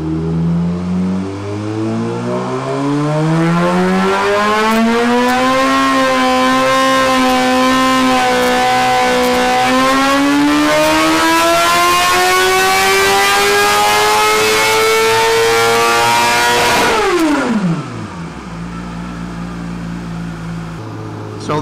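A 2017 Suzuki GSX-R1000 motorcycle engine on a dyno climbs steadily in pitch as it revs to about 7,500 RPM, holds there loud and strained, then drops sharply back to a low idle.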